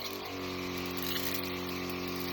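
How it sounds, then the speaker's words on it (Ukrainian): A garden pressure sprayer pumps water onto young cabbage seedlings, giving a steady mechanical drone with a constant tonal hum and a soft rushing spray, continuous and close throughout. "Поливаємо ми от таким поприскувачем"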